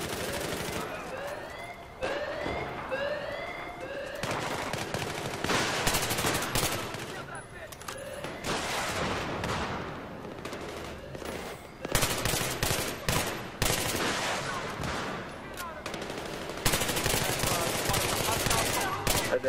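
Sustained Battlefield 3 gunfire: rapid automatic bursts and scattered single shots crackle loudly and almost continuously, with whistling tones early on and occasional voices in the mix.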